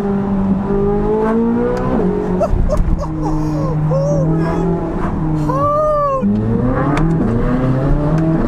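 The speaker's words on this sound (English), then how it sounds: "I gotta go into manual mode and see these shifts myself" A 2023 Chevrolet Corvette Z06 accelerates hard in manual mode, its engine note climbing in rising harmonic sweeps that drop sharply at each gear shift, loud and close throughout.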